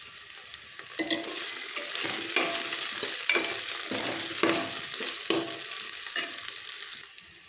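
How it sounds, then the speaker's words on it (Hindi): Green chillies and potatoes fry in a pan for moong dal khichdi, a bright close sizzle broken by repeated scraping strokes of a spoon stirring, steady and loud until it stops near the end. "अब यहीं पर डालेंगे हम हरी मिर्च और आलू। अब इसे भी हमें भून लेना है।"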